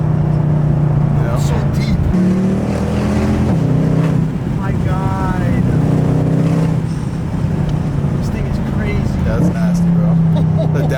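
Mercedes W204 C63 with a Valvetronic Designs full valved exhaust revs and downshifts, giving a loud, deep engine roar with rising and falling pitch close by, while people talk and react over it.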